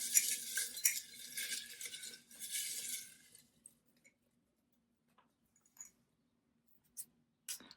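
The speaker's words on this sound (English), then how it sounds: "I'm going to give it a good mix as per usual" Paper prompt slips tumbled and mixed inside a jar give a close, busy rustling and clinking for about three seconds, followed by a few faint, isolated ticks and taps.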